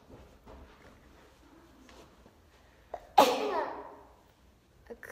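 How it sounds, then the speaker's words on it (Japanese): A single sharp sneeze bursts out close to the microphone midway through, loud against quiet background murmur, fading over about a second. "くしゃみ出たんだけど"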